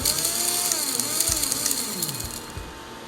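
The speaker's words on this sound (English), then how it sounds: "I'm going to put a little bit in my spice grinder here. I'm going to grind it up." A small electric spice grinder of the coffee-grinder type whirs loudly up close. Its motor pitch rises and falls over about three seconds with a few rattling knocks, and no one speaks.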